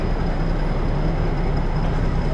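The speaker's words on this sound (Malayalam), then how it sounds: "ട്രെയിൻ അങ്ങനെ മന്ദം പോയിക്കൊണ്ടിരിക്കുകയാണ്." Ooty–Mettupalayam toy train rolling slowly through Lovedale station, a steady, loud rumble with no clear rhythm and no talk.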